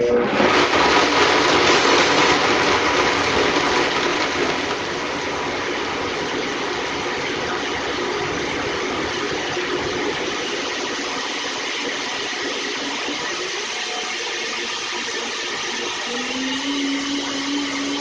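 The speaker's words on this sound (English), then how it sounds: "you're going to hear blender noise" A blender on its smoothie setting whirs loudly and continuously while blending almond milk, its motor pitch shifting slightly as it runs, with no voices.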